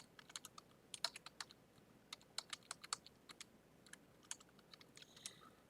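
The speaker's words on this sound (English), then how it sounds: "Typing it for him to read." Fast, irregular clicking of a computer keyboard being typed on, close and fairly quiet, with short bursts and brief pauses between keystrokes.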